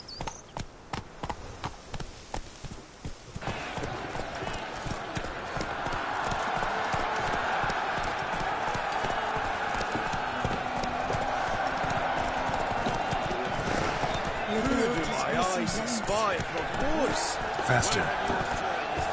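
Galloping hooves of the horse Roach in The Witcher 3, a steady rapid clip-clop running throughout, loud and continuous, with a voice speaking briefly over the start and game music underneath.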